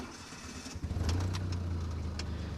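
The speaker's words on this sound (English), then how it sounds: "All right, let's start her up." A warm Chevrolet Sprint Turbo engine cranks briefly and then catches, settling into a steady, low, close idle rumble.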